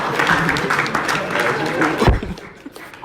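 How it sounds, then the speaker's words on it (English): Applause at a peace concert press conference keeps up as a dense, steady patter, with crowd noise and talk mixed in, then tails off near the end. "can we clap for them"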